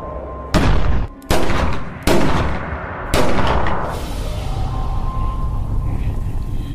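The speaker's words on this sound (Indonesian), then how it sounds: "Eddie menembakkan semua peluru yang tersisa" Several loud, close gunshots ring out in a horror film, four sharp blasts spaced about a second apart, each followed by a lingering rumbling echo and noisy aftermath.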